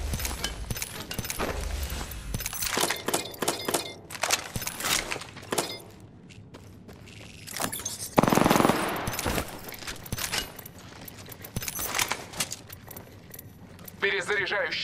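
Gunfire in Apex Legends: rapid bursts of automatic shots and single cracks, loud and close, with a voice speaking between the volleys.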